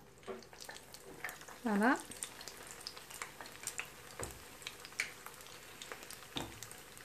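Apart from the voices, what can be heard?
makroud pastries frying in oil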